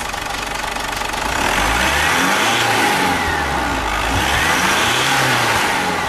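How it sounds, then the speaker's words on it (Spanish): Car engine with a turbo revving in a workshop acceleration test: loud, close, rising and falling revs that surge twice over a constant engine drone, no talking. "Ahora vamos a acelerarlo, por favor. Y vamos a mirar lo que sucede. Vamos a dar unas 2 aceleraciones."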